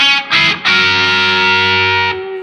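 Electric guitar rock lead through an LSL Vital DS distortion pedal, gain lowered and bass raised: two quick distorted notes followed by one long, loud sustained note that drops off abruptly near the end.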